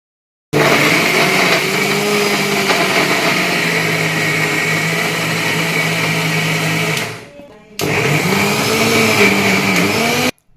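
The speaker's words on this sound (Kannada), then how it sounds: "ಸ್ವಲ್ಪ ಏಲಕ್ಕಿ ಹಾಕೊಂಡ ಕೊಬ್ಬರಿ ರುಬ್ಕೊಂಡಿ ನೋಡ್ರಿ" An electric mixer grinds fresh coconut with cardamom, a loud steady whirring hum that runs for about seven seconds, stops briefly, then starts again.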